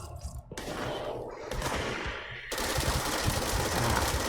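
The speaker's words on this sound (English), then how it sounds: "Explosions" Loud, dense bursts of explosions and rapid gunfire in the video game Control, rumbling continuously and building in intensity through the clip.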